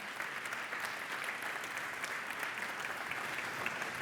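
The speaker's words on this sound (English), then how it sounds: "Your applause, please, for the one and only Nicholas Leeder." Steady applause from a conference audience at an Industry 4.0 summit in Portugal, a dense, even wash of clapping that holds at a constant level for about four seconds with no voices over it.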